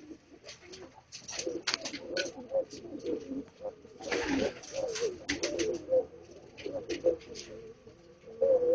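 A Shahjahani pigeon gives soft, repeated coos and fluttery calls at close range. Someone talks quietly through much of it.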